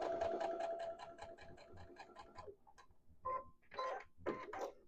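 A sewing machine stitches quilt binding with an open-toe foot, a quick, even run of needle strokes for a couple of seconds, then quieter scattered clicks and handling noises, faint and close.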